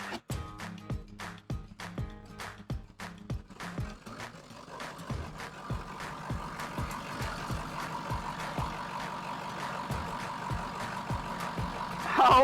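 After an alternator swap, a car engine ticks in a quick regular rhythm as it turns over, then catches and settles into a steady running hum that builds toward the end.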